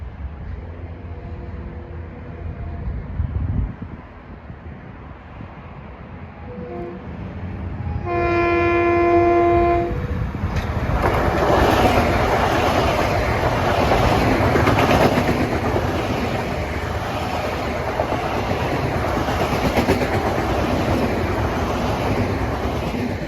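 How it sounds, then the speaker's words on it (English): A Long Island Rail Road M7 electric multiple-unit train sounds its horn in a few short blasts, then roars past at speed with loud, sustained rail noise that fills the rest of the span. "Approaching westbound from behind is train 1967"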